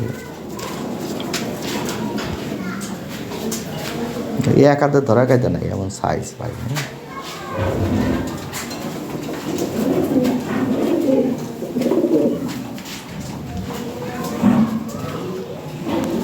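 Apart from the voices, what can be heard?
fancy Lahore pigeons cooing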